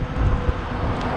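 Strong wind gusts roar outdoors along Riverside Drive by the Hillsborough River, a dense low rumble buffeting the microphone steadily for about a second, with no voices.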